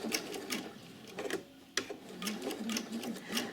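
A sewing machine stitches a single welt pocket on a coat, a faint, close needle rhythm in short runs with a brief pause and a click near the middle.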